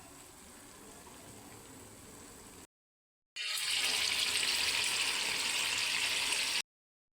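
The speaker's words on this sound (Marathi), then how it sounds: "हे बघा आपलं लोणी असं वितळत चाललेलं आहे" Butter melts and bubbles in a pan on the stove as it turns into ghee, giving a steady close sizzling hiss that breaks off briefly, then returns louder and brighter.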